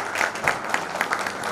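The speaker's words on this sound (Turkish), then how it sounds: "sevgili Yunus Şentürk alkışlarla" Applause from an award ceremony audience, a steady crowd clapping with rhythmic peaks, fairly close and continuous over a brief stretch.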